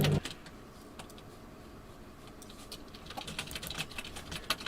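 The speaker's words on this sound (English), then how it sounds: "that's his keyboard. He taps so loud" Loud, rapid typing on Baz's computer keyboard clatters on in dense bursts of key taps, picking up and growing busier toward the end, with no one speaking.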